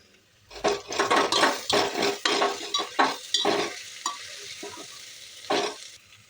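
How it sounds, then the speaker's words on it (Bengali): Brown chickpea masala seasoned with salt and sugar is stirred in a hot pan, producing a string of close scraping, sizzling strokes in an uneven rhythm that thin out toward the end. "লবণ আর চিনি দেওয়ার পর 1 মিনিটের মতন আমি ভেজে নিচ্ছি।"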